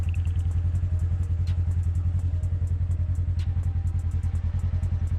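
A steady, loud engine chugs with a fast rhythmic putter as a 2022 Polaris General Premium side-by-side drives through a swamp, close by and continuous, with no voices.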